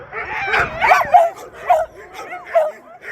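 Sled dogs in the Vosges yip, bark and whimper in a rapid, excited series of close, loud cries with whiny rising tones, carrying on without pause.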